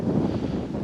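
Steady wind buffets an outdoor microphone on a late-season bowhunt, a continuous low rumbling roar filling the short moment with no other sound.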